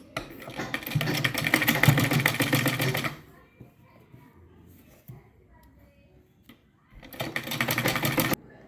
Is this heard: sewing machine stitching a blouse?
yes